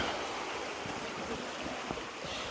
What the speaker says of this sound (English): look at this bend in the river